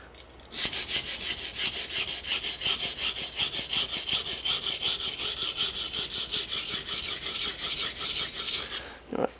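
A knife is sharpened on an Omura Japanese natural whetstone, with fast, even rasping strokes in a steady back-and-forth rhythm, close and fairly loud, and no talk.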